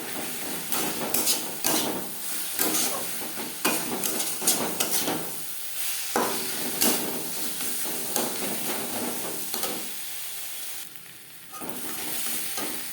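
Spices sizzle steadily in a pan over low to medium flame for a Bengali doi katla, with a spoon or spatula scraping and clinking against the metal as the masala is stirred.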